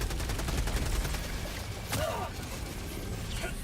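Heavy machine gun fire in Helldivers 2 rattles in a dense, continuous burst of rapid shots, with a sharp louder crack near the middle and steady battlefield noise throughout.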